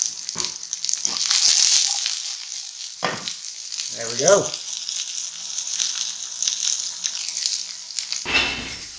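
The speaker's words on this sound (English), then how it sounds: "So that's cooking away nicely" Broccoli and cashews sizzle and fry in a pan with toasted sesame oil, a steady hiss with occasional stirring scrapes and a brief voice partway through.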